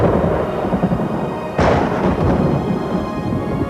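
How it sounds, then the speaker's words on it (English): Radio signals from lightning strikes rippling into Earth's magnetic field, picked up by the Galileo spacecraft: a dense, steady crackling static hiss with one sudden falling whistle-like sweep midway through. "Galileo was hearing the sound of lightning bolts rippling into the Earth's magnetic field."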